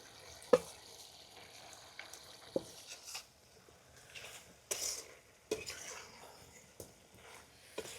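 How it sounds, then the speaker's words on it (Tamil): Chicken coated in chili powder is sautéed and stirred in a pan for a chicken curry, with quiet sizzling broken by scattered scraping and clanking of a spoon against the pan. "மிளகாத்தூளை போட்டு நல்லா வதக்கிட்டேன்"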